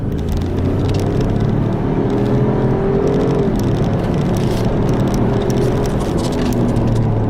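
A 2018 Ford Expedition Limited in 4-wheel automatic accelerates hard, its engine note a steady, rising road-car roar with rolling tire noise, fairly close and unbroken.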